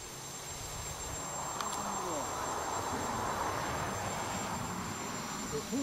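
A GAUI 330X-S radio-controlled helicopter flies far off, giving a faint, steady whirring hum over quiet outdoor background.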